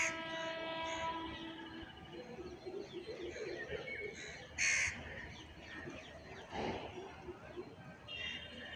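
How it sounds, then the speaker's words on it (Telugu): The horn of the Ahmedabad–Puri weekly superfast express sounds from a distance, a long tonal blast, with crows cawing nearby and a voice talking over the platform ambience. "మీకు హార్న్ వినిపిస్తుంది"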